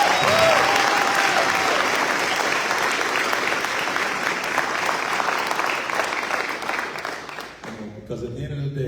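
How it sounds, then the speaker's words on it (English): Sustained audience applause at a United States Navy retirement ceremony for a senior chief petty officer, loud and dense from the start, then tapering off near the end as the clapping thins out. "Clap it up again."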